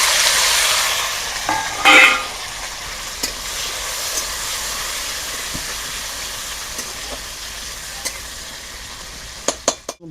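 Tomato and onion frying in hot mustard oil in a kadai, a steady loud sizzle with a sharp burst near the start and a few scraping stirs toward the end.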